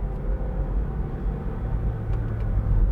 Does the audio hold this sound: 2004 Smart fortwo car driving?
yes